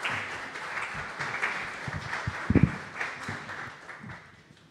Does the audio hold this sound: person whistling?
no